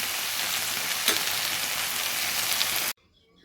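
Bean and poppy seed curry with onion stalks simmering in a pan, a steady close bubbling sizzle with one brief louder pop, then cutting off abruptly near the end.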